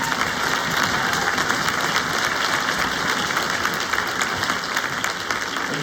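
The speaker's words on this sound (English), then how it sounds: "if you would give them a round of applause" Audience applause at a school winter band concert, a dense, continuous wash of many hands clapping at steady loudness throughout.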